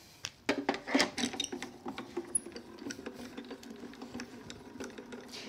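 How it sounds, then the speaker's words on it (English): A Grand Calibur die-cutting machine cranking junior plates through its rollers: a quiet, steady mechanical whirring and ratcheting with uneven clicks, close by and without speech. "And we're going to run that through our grand caliper."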